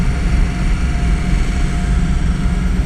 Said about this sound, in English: The fan should be loud.